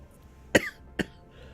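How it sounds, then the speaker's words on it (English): Two short, sharp coughs from one person, close and fairly loud, spaced about half a second apart in an otherwise quiet room. "We've set the cough off."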